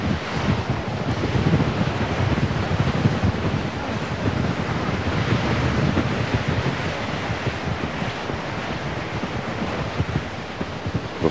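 Strong wind gusting steadily across an open golf course during a US Open, a continuous loud roaring rush that buffets the microphone throughout, with no talk.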